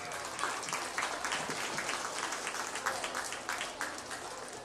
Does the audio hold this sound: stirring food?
no